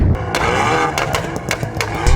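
McLaren 720S and 720S Pista supercars rumble and rev at an airstrip drag race event in India, a loud, dense engine roar with sharp bursts near the start and end and steady broadband noise throughout.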